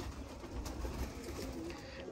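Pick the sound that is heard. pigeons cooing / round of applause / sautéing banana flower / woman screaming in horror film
pigeons cooing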